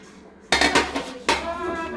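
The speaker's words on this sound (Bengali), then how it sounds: "তো এখন আমি একটু খাওয়া দাওয়া করব। খিচুড়ি আর মাংস।" Dishes and cutlery clink and scrape during a home meal of khichuri and meat, two sharp clatters standing out over softer scraping, close by and fairly loud, with no talking.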